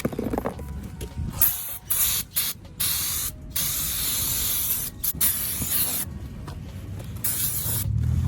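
Throttle body cleaner sprayed from an aerosol can onto brake rotors during a front pad and rotor change on a 1990–93 Acura Integra, coming as a series of loud, close hissing bursts broken by short pauses, with no voices.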